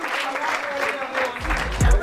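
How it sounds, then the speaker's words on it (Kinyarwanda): Brief burst of audience applause for a guest named Reagan on a Rwandan talk show, clapping throughout the short moment with a low thump near the end. "Amashyi menshi cyane kuri Reagan."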